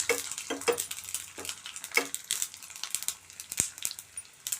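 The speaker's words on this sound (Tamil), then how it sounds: "நாங்கள் கீரை குழம்புனாவே வடகம் போட்டு தான் தாளிப்போம்" Vadagam sizzling in hot oil for tempering a spinach dal, crackling bursts and a few sharp pops over about five seconds, close and fairly loud with no talk.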